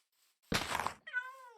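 A Minecraft cat mews once, a short, clear, tonal meow that follows a brief soft thump, alone and close.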